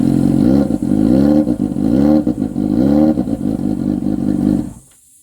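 A Yamaha FZ6 N motorcycle engine with the exhaust can removed revs hard and loud, rising and falling through repeated throttle blips with raw, rasping harmonics before cutting off abruptly.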